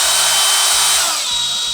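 A power drill bores into a Volkswagen Beetle vent window part, a loud continuous whine that holds steady and then drops slightly in pitch near the end.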